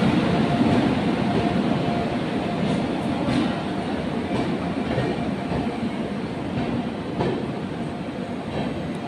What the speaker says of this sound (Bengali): বন্ধুরা, আমরা স্টেশনে এসে গেছি, রাজধানী ঢুকেছে।